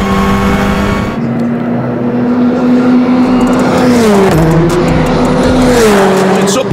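Loud, close Hyundai race car engine at the Nürburgring 24h qualifiers drones at high revs, pitch rising steadily then dropping through gear shifts, with commentary talking over it.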